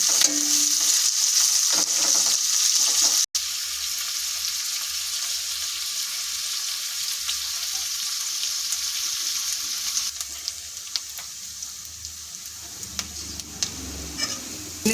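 Onion frying in a pan for mint chutney, a continuous close sizzle with occasional light stirring clicks, steady throughout and no voices.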